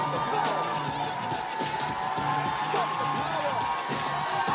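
An audience at a radio show taping claps and cheers, a dense continuous roar of crowd noise with whoops, while people talk over it.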